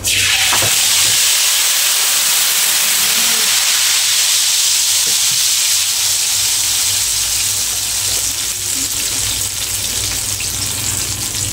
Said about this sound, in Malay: Tok Mak nak menumis sambal udang. Kita tumis dulu dia punya.